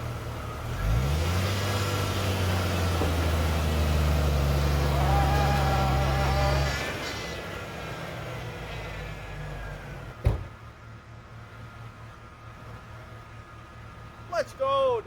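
A junker vehicle revs hard trying to drive out of a stuck spot, a loud sustained engine drone for several seconds that then drops away, followed by quieter idling, a sharp knock and voices.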